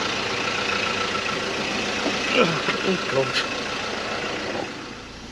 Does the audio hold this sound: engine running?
yes